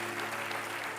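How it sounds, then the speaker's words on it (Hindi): A studio audience on a Hindi comedy show claps loudly for a dance number, a dense wash of applause with no voices. "जोरदार तालियां।"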